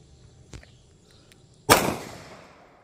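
A single sharp .40 calibre pistol shot fired outdoors near a Tennessee Walking horse, a loud crack with a trailing echo, preceded by a couple of faint small clicks.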